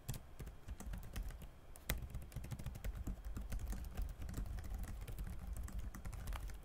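Steady, rapid key clatter from the backlit keyboard of a Lenovo Legion Y520 gaming laptop with 1.7mm key travel, a dense run of close, crisp taps with no pauses.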